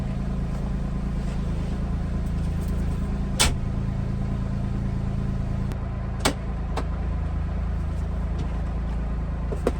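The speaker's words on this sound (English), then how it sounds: "You can see how quiet this thing is compared to like the Expedition and other side-by-sides on the market." A Polaris Ranger XD 1500 side-by-side from 2024 runs in a steady, low, quiet engine drone, heard close. A few brief clicks and knocks break in.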